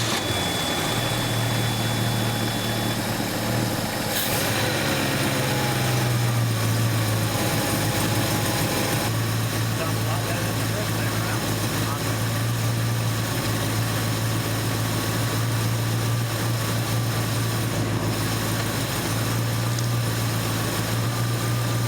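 A freshly rebuilt car engine turns over and settles into a steady, loud idle, a continuous low drone with a slight rev change early on, running alone without talk.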